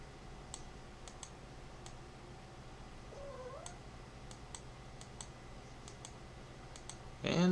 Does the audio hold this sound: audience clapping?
no